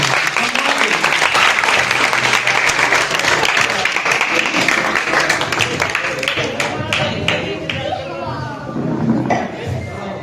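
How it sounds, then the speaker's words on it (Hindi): Loud, sustained applause from a village gathering's audience greeting the chief guest, many hands clapping densely for about ten seconds, with crowd murmur and voices mixed in as it tapers slightly near the end. "आदरणीय राधा जी के लिए जोरदार तालियां बुलाते हैं।"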